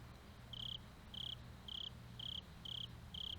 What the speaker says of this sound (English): Why am I hearing crickets in an underground cave?